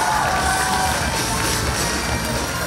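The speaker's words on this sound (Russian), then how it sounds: "ваш аплодисмент!" A crowd at a children's sports dance concert breaks into loud, dense applause and cheering. The sound is continuous and close for the whole moment, with no clear talk over it.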